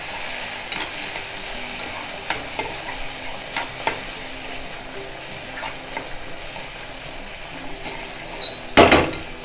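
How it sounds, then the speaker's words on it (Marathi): Malvani masala sautés in hot oil, giving a close, steady sizzle broken by occasional stirring scrapes and a louder clatter near the end. "आता हा आमचा मालवणी मसाला जर आपण तेलावरती परतून घेऊया"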